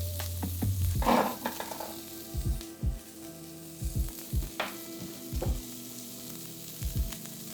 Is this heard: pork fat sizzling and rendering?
yes